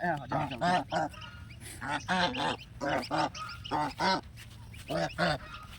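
Ducks and their ducklings near a vegetable field give a run of loud, close, nasal quacks and honks in quick bursts, repeating steadily throughout.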